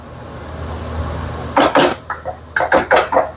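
Pechay with pork is stirred in a pan, a run of loud metallic scrapes and clanks of utensil on cookware in quick uneven strokes after a quiet start, no talking.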